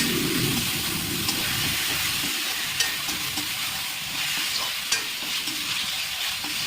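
Steady sizzling and frying of yogurt-and-turmeric marinated chicken sautéing in a hot pan, with occasional scraping and stirring clicks, continuous and close, with no talking.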